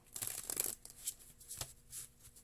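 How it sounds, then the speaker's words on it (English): Tarot cards being shuffled by hand, soft riffling bursts and a few sharp flicks, faint and close, with no talking. "Another shuffle, they say."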